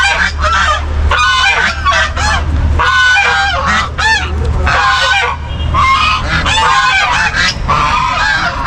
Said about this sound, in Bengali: এখানে বেশ কয়েকটা রাজহাঁস রয়েছে, দেখতে পাচ্ছ।